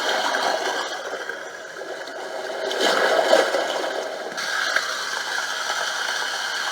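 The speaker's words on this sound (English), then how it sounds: "It's a creek." A portable nursery white noise machine plays its creek setting, a steady broadband rush of flowing water with faint trickling detail, swelling slightly midway and then holding level.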